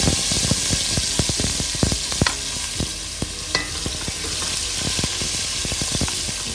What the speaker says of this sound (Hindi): 2 अदद प्याज चॉप किए हुए इसमें हमने डाल देने हैं और उनको फ्राई करना है हमने